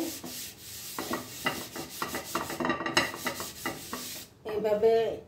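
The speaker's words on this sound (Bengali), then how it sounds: "একটা টিস্যুতে সামান্য পরিমাণে সয়াবিন তেল নেবেন। এই নন স্টিকে এইভাবে" A tissue soaked in a little soybean oil is rubbed over a heated non-stick pan, giving close, dry rasping strokes in an irregular back-and-forth rhythm with short pauses.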